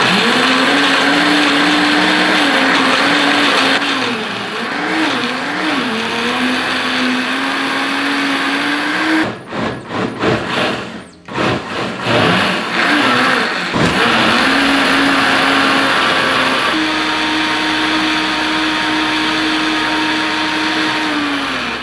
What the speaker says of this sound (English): Since I've just blended this, I do just want to say the One seems to be just a tad bit louder on the engine